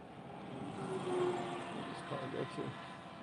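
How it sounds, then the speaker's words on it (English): A truck passes on the road beside a Toyota Trailhunter, a broad rumbling swell that builds and fades over a few seconds under a quiet, steady background hum. "waiting for a truck to pass"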